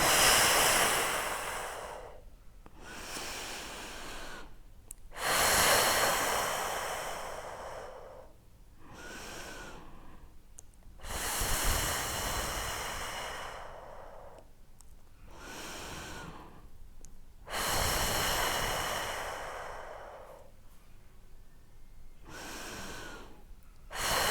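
Deep, slow breathing during a pelvic floor exercise, with loud drawn-out inhales and exhales alternating in a steady rhythm every few seconds, close and breathy, with no talking.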